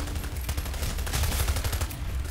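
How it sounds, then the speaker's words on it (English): Rapid automatic gunfire from an enemy Titan in the Titanfall video game rattles continuously, loud and dense, with bursts blending into a heavy, sustained barrage. "he's shooting"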